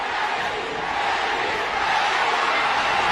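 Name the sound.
boxing crowd chanting for Pacquiao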